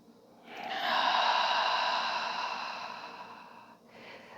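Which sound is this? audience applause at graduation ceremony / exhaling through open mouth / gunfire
exhaling through open mouth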